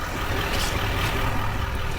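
Trailer being lowered onto a 2020 Chevrolet Silverado 3500 fitted with a pin box hitch: a steady, loud low mechanical rumble and hum that holds evenly throughout, with no voices.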